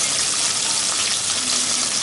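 Hilsa fish pieces fry in hot oil in a pan over a medium flame, giving a close, loud, continuous sizzle and crackle with no talking.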